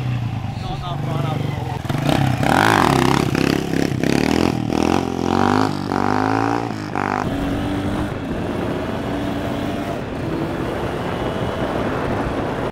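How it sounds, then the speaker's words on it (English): A 2016 Husqvarna 125 two-stroke and a 2018 Husqvarna 250 four-stroke dirt bike idle and rev nearby, a loud steady engine drone that rises and falls and then settles to a lower rumble, with people talking over it. "So we got a 2016 Husky 125 and a 2018 Husky 250."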